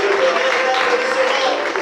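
A church congregation applauding and cheering, a brief, dense burst of many hands clapping mixed with voices, loud and continuous.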